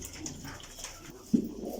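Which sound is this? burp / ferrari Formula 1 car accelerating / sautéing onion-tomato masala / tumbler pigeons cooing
tumbler pigeons cooing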